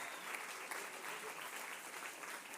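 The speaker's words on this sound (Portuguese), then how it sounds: "pode aplaudir mesmo o Senhor." A church congregation at a Methodist service claps in sustained, dense applause, a steady wash of many hands at a moderate distance, faint overall and lasting the whole moment.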